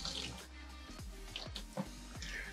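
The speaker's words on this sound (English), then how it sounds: "You're gonna keep rinsing it with water and squeezing until you stop seeing suds coming out of the bag" Water drips and trickles from a rinsed cornhole bag being squeezed, with a few soft splashes at irregular intervals over a steady low hum, close and quiet.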